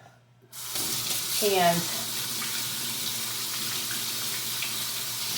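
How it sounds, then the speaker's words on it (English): A running kitchen tap pours steadily over washing hands, a close and continuous splashing hiss after a short quiet start, with a brief voice near the beginning. "I'm gonna wash my hands."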